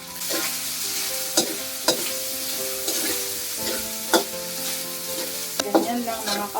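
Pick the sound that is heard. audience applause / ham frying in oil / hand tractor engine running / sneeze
ham frying in oil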